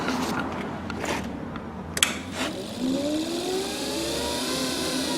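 A mobility scooter's transaxle motor whirs smoothly without grinding, a rising electric whine that climbs steadily in pitch after a couple of clicks and knocks, close and moderately loud.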